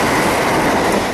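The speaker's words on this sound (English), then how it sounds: "here's a train" A train passes close by on a walk from Dundee to Broughty Ferry, a loud steady roar of rail noise with faint clatter.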